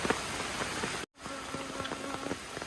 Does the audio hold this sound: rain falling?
yes